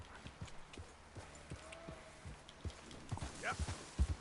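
Horse hooves clip-clop in Red Dead Redemption 2, a quiet uneven rhythm of hoofbeats that picks up and grows louder toward the end, with faint game ambience around it.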